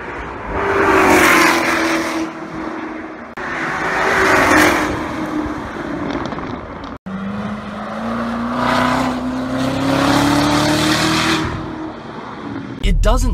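Supercharged Chevrolet Corvette ZR1 engine, 2018, on a race track: loud rising revs and upshifts as the car accelerates, with a roaring, somewhat muffled low-quality recording, several sweeping pulls in a row.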